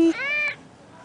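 A cat gives one short, clear meow, close and fairly loud, rising then falling in pitch, with a brief low tone just before it.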